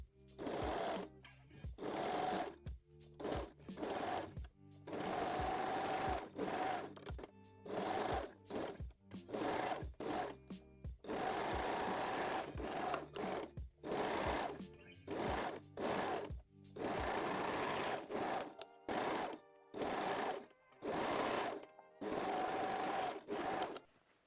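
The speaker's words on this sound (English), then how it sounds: "sew them using a zigzag stitch or your serger" A sewing machine or serger runs a zigzag stitch through bralette lining pieces in repeated close bursts of rapid mechanical whirring, separated by short pauses and clicks, with no talk over it.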